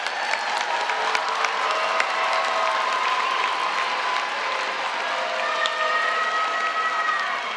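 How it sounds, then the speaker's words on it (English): A large commencement audience at the 2025 Cincinnati State graduation applauds the Business Division graduates, giving steady, dense clapping with scattered whoops and crowd noise that carries on without a break. "Let's give another round of applause for the graduates of the Business Division."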